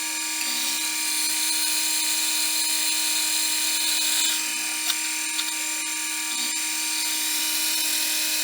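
A drill bores into an annealed spring steel knife blank, producing a continuous high, whining drone with a steady motor hum underneath, unbroken and fairly loud throughout with no talking.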